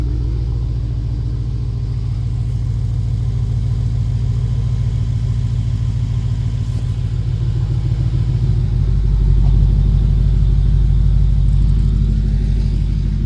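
A 2012 BMW F10 550i xDrive M Sport with a Turner exhaust and the mufflers deleted gives a loud, steady, deep engine rumble that swells louder near the end, heard alone.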